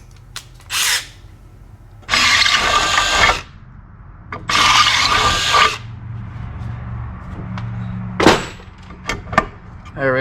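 A power drill enlarging a hole with a 23/64 bit during motorcycle work, in several loud, separate bursts of a few seconds each with brief pauses and clunks between them.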